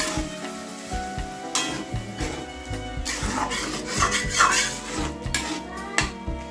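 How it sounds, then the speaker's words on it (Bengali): Spinach curry with vegetables sizzling and frying in a pan as water is poured in, with a steady loud hiss, spatter and stirring scrapes and occasional clinks of utensils against the pan. "এখন আমি দিয়ে দেবো পরিমাণ মতো জল।"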